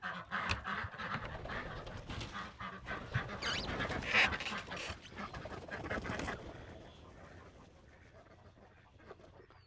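Ducks quacking as they are let out of their pen in the morning on a small farm, mixed with other poultry calls and a panting dog, busy and close, tapering off toward the end.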